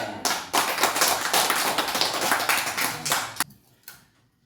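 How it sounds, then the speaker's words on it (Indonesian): A small group clapping for homemade fried cassava crackers in a classroom, a brisk close burst of hand claps lasting about three seconds before stopping abruptly, followed by a few faint taps. "Tepuk tangan untuk Ya. buatan"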